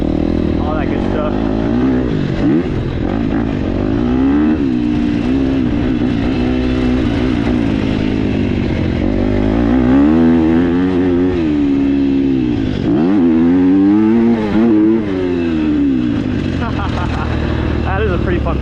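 KTM 250SX-F motocross bike engine revving loudly and steadily on a first ride, pitch rising and falling through repeated throttle sweeps, close up with a continuous mechanical roar.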